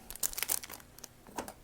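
Net bandage packaging from a mountaineering first aid kit crinkles and crumples in close, quiet handling, with a cluster of rustles followed by a softer crinkle.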